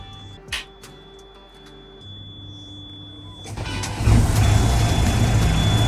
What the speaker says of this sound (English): Different noise, new engine.